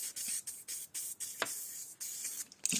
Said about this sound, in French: Je viens avec une petite bombe parce que comme ça, le spray est vraiment très, très fin et j'y vais délicatement.